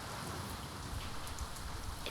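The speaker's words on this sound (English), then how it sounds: "she lay and hated the sound of the heavy beating rain" Heavy rain beats down as a sound effect in an audiobook, a steady, moderately loud wash of droplets that continues alone with no speech.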